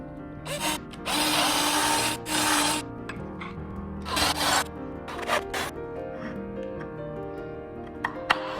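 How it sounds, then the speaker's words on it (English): Bursts of a power drill whirring in short runs, enlarging holes in a wooden 2x4, separated by pauses with clattering and handling noises, close by. "it was a pretty easy fix just by drilling out the holes a little bit bigger"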